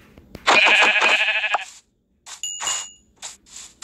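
Minecraft sheep bleating in a jungle game world, a loud wavering bleat followed by a short pause and several fainter chimes and blips.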